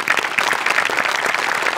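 An audience on the Marathi comedy show Maharashtrachi Hasya Jatra applauds loudly, a dense, steady burst of clapping that fills the whole moment with no talking over it.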